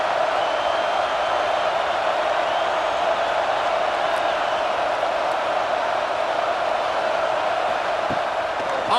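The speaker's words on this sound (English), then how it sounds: "This crowd ready to make its presence known." Stadium crowd in EA college football, a Florida State versus Virginia Tech game: a steady, loud, dense roar of many voices that holds without breaks, with no clear individual cheers standing out.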